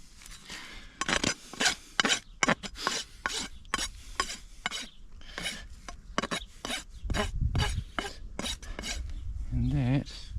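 A horse's neglected hoof is trimmed and cleaned with a rasp, giving close, loud, rhythmic rough strokes in quick bursts with short pauses between them, and a brief low rumble near the end.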